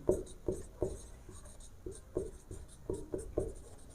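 Pen writing on paper during a Class 10 maths lesson on the sum of odd numbers, with about ten short scratchy strokes in an uneven rhythm, close and fairly quiet, with no talking.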